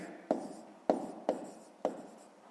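Pen writing by hand on paper while working a fifth-grade math exercise: four sharp, close strokes spaced about half a second apart, with no talking.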